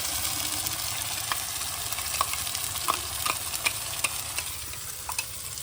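Spice paste of cumin, chilli, ginger and garlic frying in a pan while a spoon stirs it: steady close sizzle with repeated soft scraping strokes on a fairly regular rhythm, no talking.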